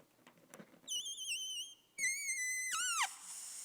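Air squeals out of a stretched balloon neck in two loud, wavering high-pitched bursts, the second ending in a quick downward swoop and a fading hiss.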